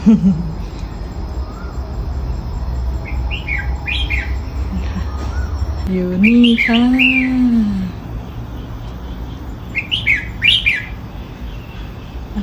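A red-whiskered bulbul sings close by outdoors among garden trees, giving short bubbly whistled phrases in a few bursts over a steady background hiss, with someone speaking briefly.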